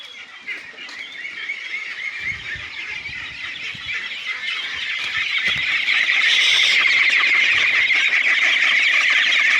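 Campbell ducks on a farm give a dense, continuous chorus of squawks and quacks, steady and fairly close, growing louder and busier toward the end.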